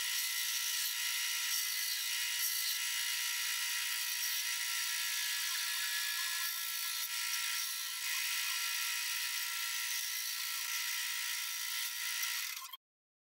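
A wood router fitted with an inlay set cuts around a Dutchman inlay on an upcycled pallet wood project, giving a loud, steady high-pitched whine that holds evenly for about thirteen seconds and then cuts off abruptly.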